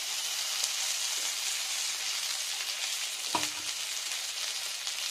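Mustard oil sizzles in a pan with a steady, bright hiss, broken by a single louder spit or clatter a little past the midpoint.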